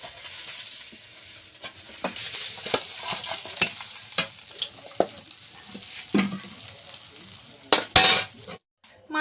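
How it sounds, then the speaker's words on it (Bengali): Fish fry in a wok while being turned, a steady sizzle punctuated by sharp metal scrapes and clinks of a utensil against the pan, ending abruptly. "মাছগুলো এইভাবে ভেজে নেব"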